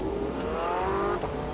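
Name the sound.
Porsche 918 driving in The Grand Tour video game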